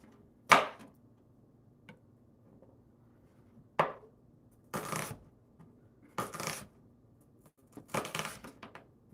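Kitchen knife chopping red onion on a cutting board while prepping shrimp tacos with avocado, a few separate crisp cuts spaced out across a quiet stretch with no talking.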